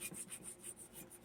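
Light hand sanding across a paint-poured tile coated in urethane with metallic flake. It makes a faint, quiet rasp in a steady rhythm of short back-and-forth strokes.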